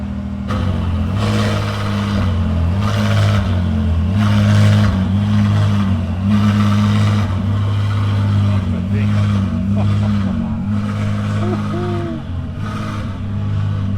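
A powerful Ferrari race car engine drones and revs steadily nearby at Imola track, its deep roar rising and falling in repeated pulses throughout.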